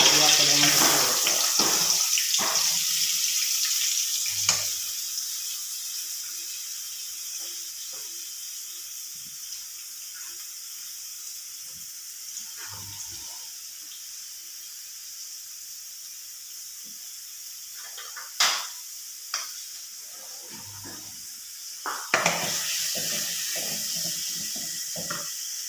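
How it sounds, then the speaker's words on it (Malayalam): Sliced onion and curry leaves sauté in hot coconut oil for a Kerala taro masala curry, giving a steady close hiss that slowly settles. Occasional utensil clinks and knocks break through the hiss. "അതിലോട്ട് ഈ ഉള്ളി കരിയാപ്പിലയും ഇട്ട് കൊടുക്കുക"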